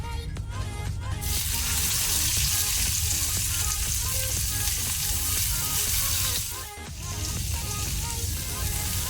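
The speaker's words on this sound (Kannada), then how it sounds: "ಈಗ ಈರುಳ್ಳಿಯನ್ನು ಸ್ವಲ್ಪ ಫ್ರೈ ಮಾಡ್ಕೊಳ್ಳುವ." Chopped onion frying in a pan with garlic and urad dal, a loud, steady close sizzle with stirring that briefly dips before resuming, with no talking.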